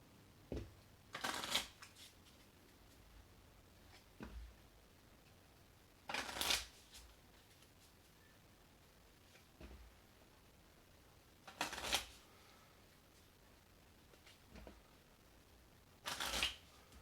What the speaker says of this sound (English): Shuffle the encounter discard into the encounter deck.